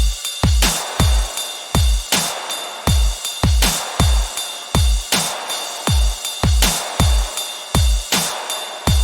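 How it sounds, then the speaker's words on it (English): Heavy melodic dubstep drum loop with a rock feel, punchy kicks and cracking snares hitting in a steady, driving pattern, loud and alone with no talking. "And we do have some dubstep drums right here, but they do have a lot more rock elements to them"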